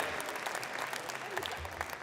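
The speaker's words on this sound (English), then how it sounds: "Let's give him a big round of applause, would you?" A crowd applauds steadily in a continuous wash of clapping at a heavyweight horse pull final in Canada, with a faint voice underneath.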